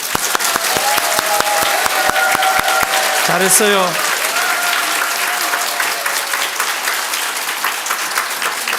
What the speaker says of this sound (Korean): 우리 박수 한번 칩니다